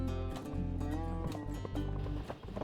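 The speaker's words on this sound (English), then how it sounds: "I don't know where these horses are coming from, but there are a boatload of them." A large group of horses on a lavender- and windmill-lined trail along Spain's Camino Olvidado, hooves clip-clopping in an irregular stream of close, fairly loud knocks, with faint voices in the background.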